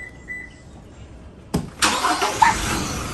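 Diesel passenger car engine cranking and firing up nearby, a sharp starter burst followed by a loud, rattly diesel idle settling in over a few seconds.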